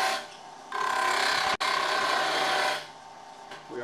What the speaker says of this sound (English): start the lathe and continue with the same cut